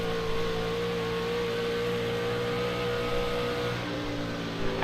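A racing truck engine in the iRacing video game drones at a steady high pitch, holding a constant whining tone near and alone, with a brief rise at the very end.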